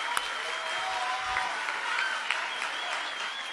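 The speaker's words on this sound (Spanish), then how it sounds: "el aplauso para el presidente" An audience at an event with President López Obrador in Chilchota, Michoacán, keeps up a steady, continuous round of applause from many people, a broad rustling roar with occasional sharper claps and a few voices underneath.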